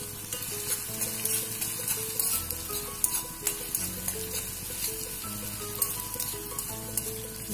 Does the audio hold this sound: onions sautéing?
yes